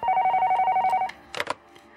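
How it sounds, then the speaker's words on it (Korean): A telephone rings in steady repeated trills for about a second, then stops, followed by brief handling clatter in a quiet room. "전화 온다."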